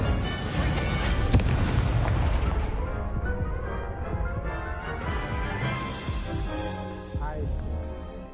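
A fiery blast cast with the Incendio spell in Hogwarts Legacy erupts loudly at the start, then rumbles and crackles as it fades over several seconds.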